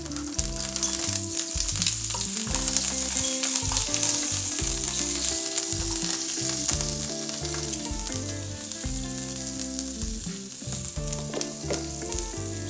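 Asparagus fries in olive oil in a pan with a steady, dense sizzle and crackle that carries on throughout, along with occasional stirring clinks.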